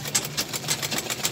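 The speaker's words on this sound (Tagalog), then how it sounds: "So patuloy na naman po ako nagtatahi" A sewing machine stitches curtain fabric in a steady, rapid run of soft mechanical pulses, fairly close and moderately quiet, with no talking.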